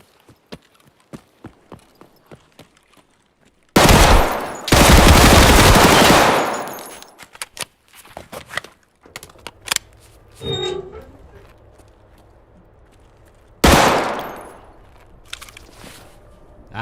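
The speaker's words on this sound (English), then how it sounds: "They're shooting at someone." Gunfire in the shooter game Escape From Tarkov: scattered single shots, then loud bursts of automatic fire up close, a pause with faint clicks and movement, and another sharp burst later.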